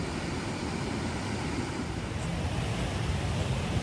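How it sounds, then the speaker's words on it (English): A waterfall at full flow gives a steady, broad rushing roar, continuous and fairly loud with no distinct events and no voices. "That waterfall can be down to a trickle or be just like that."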